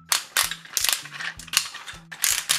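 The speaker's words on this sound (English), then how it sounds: "Ratcheted thigh swivels." Ratcheted thigh swivel joints on a transforming dinosaur robot toy, a Dino Trainers Xinqi Blast Dragon Chariot, click as they are turned. Short bursts of sharp plastic ratchet clicks come close up in an uneven rhythm.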